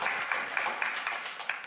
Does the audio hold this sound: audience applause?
yes